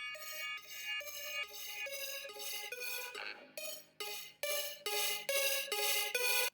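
A produced beat loop with bass drum, 808 and hi-hats runs in repeating bars, bright crisp percussive hits over a bouncing melodic pattern, with a short sweeping break midway before the groove returns.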